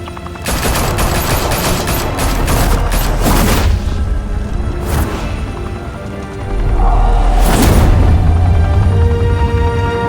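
Gunfire in a Batman audio drama: loud volleys of rapid shots and heavy booms crackle across the scene, with a short lull before a second, deeper blast and rumbling aftermath.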